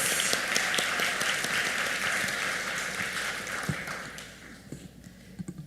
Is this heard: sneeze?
no